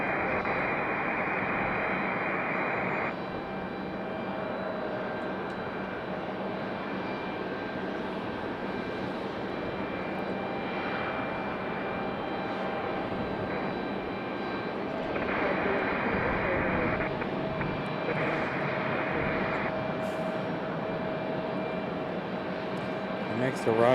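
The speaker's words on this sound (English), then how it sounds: "This one here, Republic Airways 4658, coming in from JFK," A Republic Airways airliner arriving from JFK produces a steady distant engine roar that swells slightly near the end, sustained across the whole stretch with no talking.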